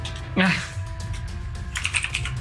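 Keys on a computer keyboard clatter in short, uneven bursts, close by, mixed with a voice and other room sounds.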